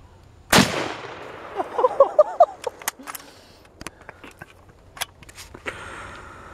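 One sharp, loud gunshot at close range cracks out near the start, followed by a scatter of fainter clicks and small impacts in an otherwise quiet outdoor setting.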